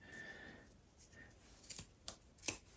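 A few short, sharp scissor snips trimming a wick, three quick cuts spaced apart, close by with a quiet background.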